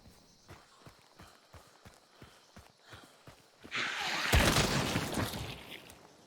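Horse hooves in the video game Hunt: Showdown make a steady, evenly spaced clip-clop, faint and fairly close, before a louder rushing noise swells and covers the rhythm.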